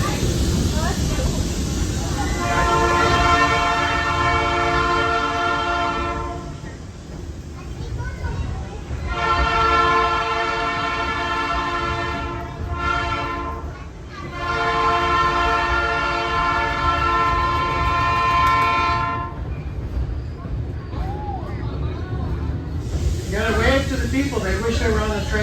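Sierra Railroad scenic excursion train at Railtown 1897, a loud sustained horn blown in long repeated blasts over the rumble of the running train, with people talking nearby.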